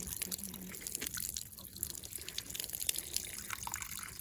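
Water runs steadily from a tap into a sink while a child washes their hands, a continuous close splashing flow with faint drips.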